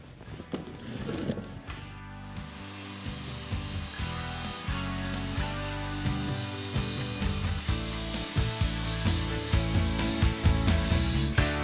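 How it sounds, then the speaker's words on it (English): Circular saw run along a cutting guide to cut wooden parts for a mobile lumber cart's cutoff bin, a steady rasping whine sustained and growing slightly louder over the cut, close by with no talking. "use the cutting guide and circular saw to create all the parts that we need for the cutoff bin"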